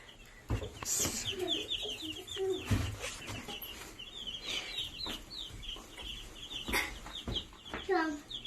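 Young chicks cluck and peep continuously nearby, a busy flock chattering with brief louder calls and some faint background voices.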